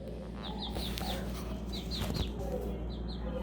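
Backyard chickens near a perch cluck in short repeated bursts throughout, close and moderately loud over a steady low background hum.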